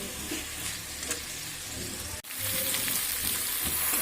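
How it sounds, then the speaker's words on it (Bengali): Gobindobhog rice and winter vegetables being stirred and fried in a pan for khichuri. A constant low sizzle runs throughout, with a brief scrape of the spoon midway and the frying growing brighter afterward. "চালটা দিয়ে দেব দিয়ে আরেকটু নাড়াচাড়া করে ভেজে নেব"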